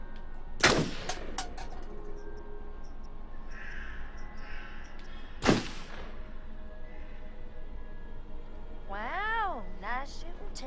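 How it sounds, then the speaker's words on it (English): Two sharp gunshots ring out in the horror video game Until Dawn, a few seconds apart, each a loud isolated crack over a steady low background, with a rising bird-like squawk near the end. "Wow, nice shooting, Tex."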